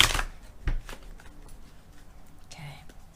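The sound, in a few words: shuffling tarot cards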